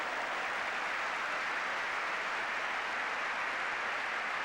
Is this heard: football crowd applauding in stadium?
yes